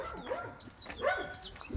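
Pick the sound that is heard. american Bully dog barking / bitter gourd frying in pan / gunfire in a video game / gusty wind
american Bully dog barking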